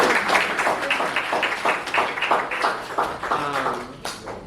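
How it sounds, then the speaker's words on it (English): Audience applause at a high school debate event, a busy patter of many hands clapping at close range, with cheering voices mixed in toward the end. "I want you all to give yourselves and each other a round of applause."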